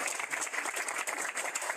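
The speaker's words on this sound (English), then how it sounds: "let's give a round of applause for mom and dad" Steady applause from an audience at a proclamation signing, dense clapping filling the whole moment without pause, fairly close and even in loudness.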